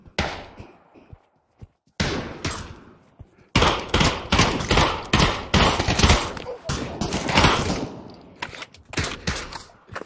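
Gunfire in Pavlov VR team deathmatch: bursts of rapid automatic shots, close and loud, with short pauses between volleys and a quieter stretch near the start.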